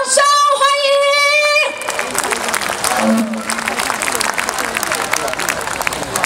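Loud applause from an audience at a charity performance welcomes a conductor, rising after a short sung or spoken tone at the start and continuing as dense, sustained clapping to the end.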